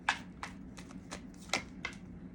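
Tarot cards riffled and shuffled in six quick, crisp bursts spaced about half a second apart, close and fairly quiet, with no talking.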